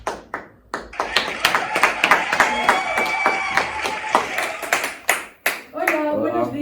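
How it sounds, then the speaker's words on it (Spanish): Clapping from an audience on a school radio-style program welcoming a guest, irregular close hand claps mixed with voices and a brief tonal sound, talk resuming near the end. "Un fuerte aplauso para ella."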